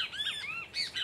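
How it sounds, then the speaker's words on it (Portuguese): Great kiskadee (bem-te-vi) song from a dry, hot patch of scrub beside a water source: a few bright, clear whistled notes in quick succession, fairly close, with no voices over them. "Ó, os bem-te-vi cantando."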